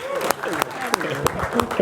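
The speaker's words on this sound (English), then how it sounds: "Give them a round of applause" A live game show audience in St Kilda applauds the contestants with sharp, regular claps, while voices cheer and talk over the clapping.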